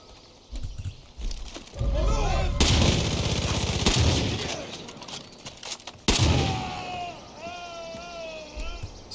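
Far Cry 5 sniper rifle shots during the Joseph Seed boss fight at an Eden's Gate outpost: two loud, sharp blasts with long rumbling tails, amid whistling and ringing game effects.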